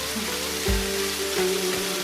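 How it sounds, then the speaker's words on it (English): A steady, broadband rushing of a waterfall in the Himalayan foothills of India fills the air like heavy rain, constant and close, with faint low thumps beneath. "When we reached the waterfall"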